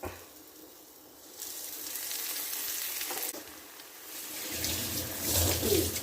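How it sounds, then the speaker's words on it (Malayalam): Stuffed chili bajji hit hot oil and a broad hiss of frying swells, growing louder and more intense as more pieces go in. No voices are heard. "ഞാൻ എണ്ണ ചൂടായിട്ടുണ്ട്, ഇട്ട് കൊടുക്കാൻ പോവാം."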